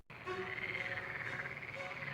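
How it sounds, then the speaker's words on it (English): Many frogs croak together in a dense chorus, with overlapping rhythmic calls and trills, steady and moderately close throughout after a brief silent start. "Next, frogs swarmed out of the Nile, invading homes, beds, and even ovens."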